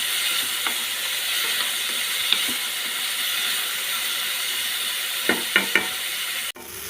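Tomatoes cooking down in a pan for a tamarind chutney, a steady soft sizzle throughout with a few small clicks near the end, and no talking.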